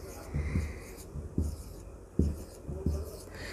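Numbers being written by hand, with scratchy pen strokes coming in short bursts separated by brief pauses, close and fairly quiet against a faint background hiss.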